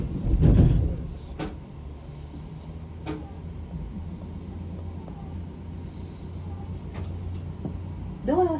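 A Japanese commuter train's doors open at a station with a brief hiss and clunk at the start, followed by quieter clicks and a low hum in the carriage before a short thump at the end.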